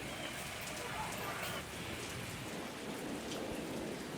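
Continuous rain falling in Sikar, Rajasthan, a dense, even hiss of heavy rain on surfaces that holds steady from start to finish.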